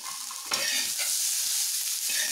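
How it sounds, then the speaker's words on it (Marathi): Fried corn kernels sizzle steadily in a pan while a spoon stirs them through, giving a continuous bright frying hiss with a few scraping strokes, close and fairly loud. "थोडंसं हलवून घेऊया परत."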